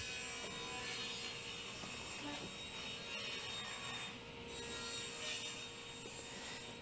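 Saw cutting strips of 3/4 inch Baltic birch plywood for a tabletop, a steady, dense rasping buzz that runs continuously at close range with no talk.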